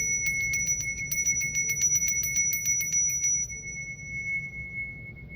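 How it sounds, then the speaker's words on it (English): A small bell rung as a rapid, bright metallic trill of many quick strikes, then left to ring out in a clear, fading sustained tone over a soft background hum. "let me ring the bell"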